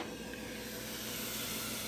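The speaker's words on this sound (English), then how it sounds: "Steam output has reduced significantly." A steady, broadband hiss of escaping steam runs continuously at low volume, with no other sounds standing out.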